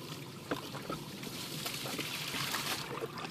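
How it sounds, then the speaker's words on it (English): Water trickles and splashes steadily through newly installed gasketed sewer pipe at a test tee after pressure testing, a continuous close, moderately faint rush with small gurgles. "You can see that the water is flowing nice through our new sewer pipe."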